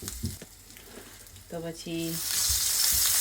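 Ginger and curry leaves fry in hot oil with asafoetida for a tempering. Someone talks over a soft crackle at first, then the sizzle swells into a loud, steady hiss.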